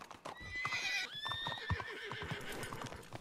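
A horse whinnies with a long high neigh, mixed with clip-clop hoof steps and snorts, fairly faint and close, alongside quiet background sounds.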